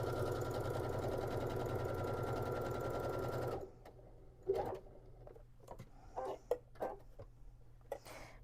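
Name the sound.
sewing machine stitching a tote bag seam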